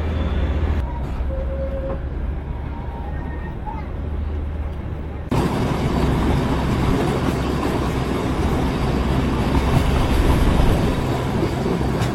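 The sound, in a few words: Darjeeling toy train passing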